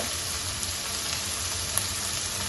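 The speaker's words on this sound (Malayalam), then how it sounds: "പിന്നെ കുറച്ച് വെളുത്തുള്ളി. നന്നായിട്ട് നമുക്ക് വഴറ്റിയെടുക്കാം." Ginger, green chili, curry leaves and garlic sauté in a pan for a salmon curry, giving a steady soft sizzle and crackle throughout, faint and close with no talk.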